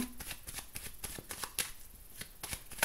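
Tarot cards shuffled in quick, rhythmic riffles, a dense run of crisp flutters and soft slaps close to the mic with no voice over them.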